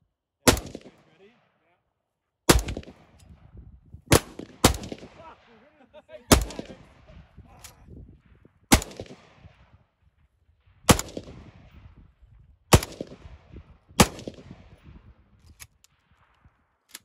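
Shotgun blasts outdoors at a camp, about ten sharp, loud reports spaced one to two seconds apart, each trailing into a short echo with rustling between shots.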